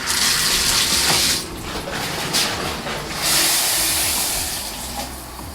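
Shower water running through an AQUABLISS SF400 shower filter, a loud continuous hissing spray that briefly dips and changes tone in the middle, as if the stream is interrupted, then resumes strongly before easing slightly at the end.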